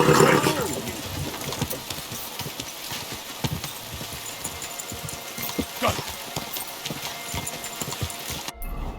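Horse hooves clip-clop steadily in the medieval video game Kingdom Come: Deliverance 2, a close rhythmic clatter over a busy background of ambient game sound.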